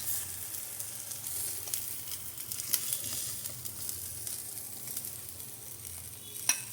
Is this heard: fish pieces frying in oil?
yes